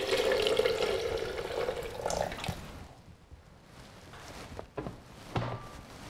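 Water pours into a blender holding chili ingredients such as chipotle and sun-dried tomato for Tex-Mex chili, a steady close splashing stream that fades after about two seconds, followed by a few faint clinks and taps.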